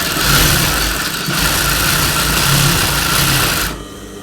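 Loud, close electric sewing machine running fast and steady as it stitches a lining blouse, with a slight change in pace partway before it stops near the end.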